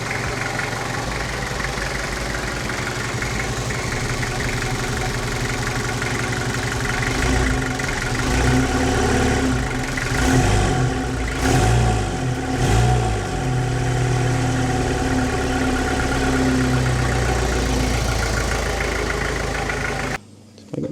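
Engine of a 1998 Toyota Hilux 4WD idling steadily up close, then rising through a few quick revs in the middle before settling back to idle, loud and continuous with no talk.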